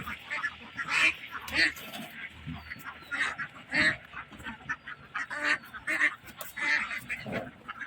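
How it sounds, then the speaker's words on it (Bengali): Native-breed ducks at a countryside duck farm call in repeated loud honking quacks, several birds overlapping in irregular bursts, with faint voices in the background. "দেশি জাতের হাঁস"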